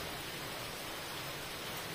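Heavy rain falling in Martins, a dense, steady wash of noise that stays loud and unbroken throughout.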